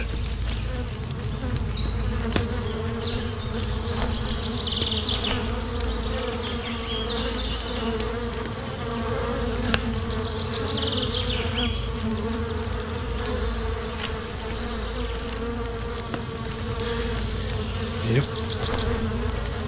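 Bees buzz continuously around a beehive in the video game Force of Nature, a dense steady drone of insect hum with occasional faint clicks throughout.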